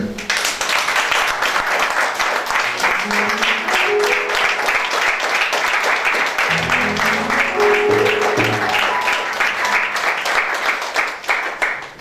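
A church congregation applauds and cheers in acclamation of the Lord, a dense, steady wall of clapping with some voices and musical tones mixed in, loud and continuous for the whole stretch before tapering at the end.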